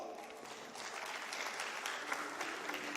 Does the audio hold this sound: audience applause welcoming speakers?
yes